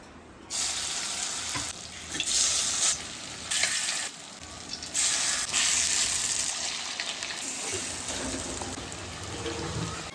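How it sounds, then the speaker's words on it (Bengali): Loud sizzling of fish fritters frying in hot oil, surging in bursts as pieces are added and stirred, close by. "এবার বড়াটা ভেজে নেবো"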